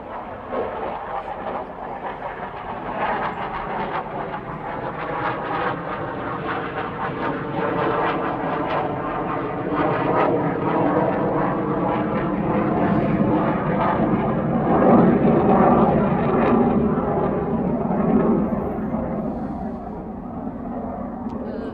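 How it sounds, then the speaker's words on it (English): A fixed-wing airplane passes overhead outdoors at a news conference, a broad continuous engine roar that swells to a peak mid-pass and slowly fades, steady with no pause and no talk over it. "There's a plane coming."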